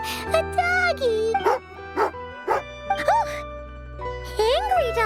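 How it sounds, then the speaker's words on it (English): A dog in the video game Genshin Impact barks angrily in a quick run of sharp, loud yaps with brief gaps, alongside a sustained musical background. "Oh, angry dog."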